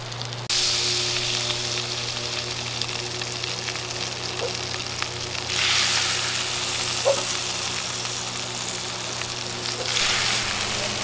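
Butter melts and sizzles in a cast iron pan set right over hot coals on an Everdure Hub grill, a close, steady frying hiss that swells at a few points and plays alone without talk.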